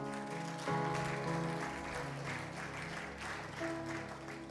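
A church seminar congregation breaks into applause, a steady wash of clapping that carries over sustained musical tones and holds at a moderate level for several seconds.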